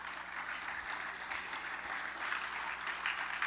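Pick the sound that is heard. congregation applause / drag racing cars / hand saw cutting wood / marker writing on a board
congregation applause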